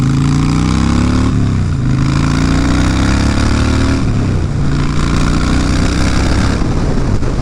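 A motorcycle engine drones loud and close while riding, its pitch rising and falling with gear changes, with wind rushing over it.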